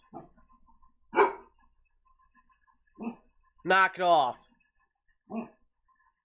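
A pet dog barks in a home, several short sharp barks and yelps spaced across a few seconds, with a person telling it to stop in between.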